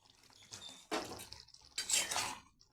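A spoon scrapes and clinks faintly in a pan as soybean and potato curry with garam masala is stirred, in a few short bursts close by.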